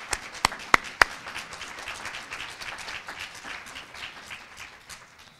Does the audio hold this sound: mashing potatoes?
no